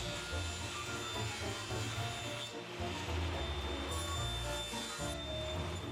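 A wooden box bottom being cut by a power saw, a steady loud broadband whir with rasping grind throughout, dipping briefly twice as the cut shifts.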